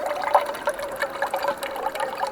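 Water poured from a CNOC bag into a glass for a drink on an alpine lake trip, a steady close trickle and splash running the whole time with no talk.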